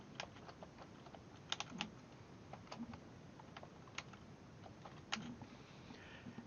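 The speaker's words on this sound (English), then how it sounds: "I'm going to type in my name" Fingers type a name on a computer keyboard in embroidery software, a quiet, irregular run of light clicks with short pauses, close and alone over faint room hiss.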